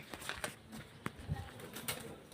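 Pigeons in a home loft give soft, faint cooing with light scattered rustles and flutters.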